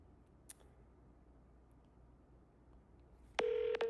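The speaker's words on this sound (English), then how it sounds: "I'm going to dial the phone number for this demo account" Telephone dialing tones for a demo account call: a faint tick early on, then near the end a loud, close burst of touch-tone beeps in quick succession.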